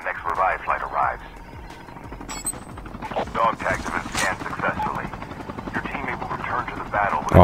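Revive-flight helicopter in Call of Duty Mobile, a loud steady rotor chop under busy gunfire and game effects, with voices talking over it throughout.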